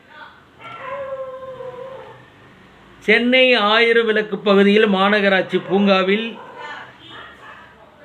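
Dogs in a Chennai neighbourhood whining and howling with long, wavering cries that rise loud in the middle, after a stretch of news narration that continues quietly beneath.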